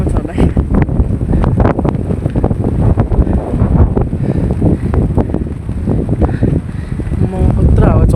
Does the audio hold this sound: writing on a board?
no